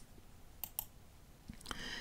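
A computer mouse gives two light, close clicks in quick succession in a quiet room, followed by a few fainter taps and a soft rustle toward the end.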